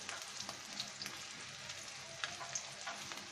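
Onions frying in a pan, a soft, continuous sizzle with faint scattered crackles and light taps, fairly quiet and with no voices over it.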